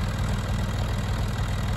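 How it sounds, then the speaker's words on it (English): A Massey Ferguson tractor engine idles with a steady low rumble and rhythmic chugging, loud and close, with no talking. "Well, that tractor sounds good"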